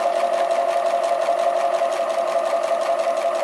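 A sewing machine stitches a quilt piecing seam with a steady, continuous close-up whir that holds at an even pace throughout, with no talking over it.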